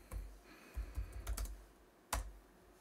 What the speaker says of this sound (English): You got to make sure you type in ping.